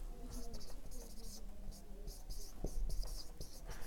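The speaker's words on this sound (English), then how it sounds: "Here, let me write." A pen or marker writes by hand on a surface with quick scratchy strokes in short bursts, while someone talks quietly alongside the writing.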